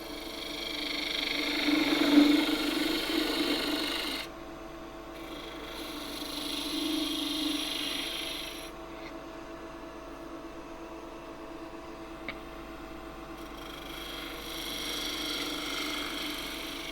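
Gouge entry cuts on wood turning on a lathe come as three separate hissing, scraping passes over a constant low motor hum, each lasting a few seconds, with quieter running between them.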